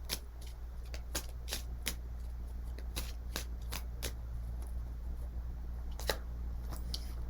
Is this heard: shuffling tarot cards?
yes